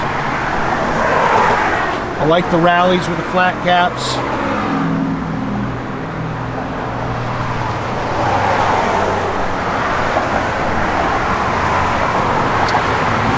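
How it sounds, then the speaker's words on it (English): A 1969 Chevrolet El Camino with dual exhaust runs at a steady idle, its low rumble continuing beneath someone talking nearby. "Good sounding dual exhaust."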